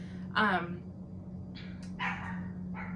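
Dogs bark at home, two or three sharp, close barks at uneven intervals over a steady low hum, with short gaps of quiet between them.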